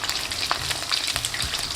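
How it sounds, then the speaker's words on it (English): Chicken pieces sizzle and crackle steadily as they fry in a pan for sweet and sour chicken, with scraping stirring strokes cutting in at close range, alone and without talk. "I'm mixing and turning to ensure it gets a nice color from all sides."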